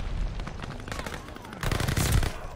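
Dual akimbo submachine guns fire in Call of Duty: Vanguard on the Shipment map, rapid automatic bursts rattling continuously with a louder, denser volley near the end.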